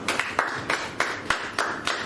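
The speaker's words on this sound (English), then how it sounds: "Can you give her a round of applause?" Sparse clapping from a small audience for a speaker at a digital marketing talk, a handful of distinct claps in loose rhythm, fairly close and brief.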